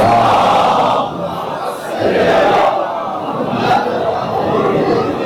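A large crowd at a Shia majlis in Karachi recites salawat loudly in unison, a swelling chorus of voices in repeated waves filling the hall.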